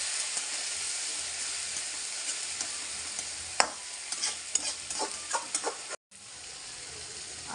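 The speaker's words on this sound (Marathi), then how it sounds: "आपण टमॅटोची व चांगल्या प्रकारे परतून घेत आहोत" Tomatoes sautéed in oil in a pan for a chicken dish, a close steady sizzle and hiss with scattered stirring clinks and scrapes, a brief dropout near the end, no voices.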